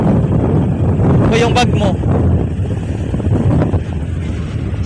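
Constant loud wind buffeting the microphone over a low boat engine rumble at sea approaching Tingloy Island, with a person speaking briefly in Tagalog underneath.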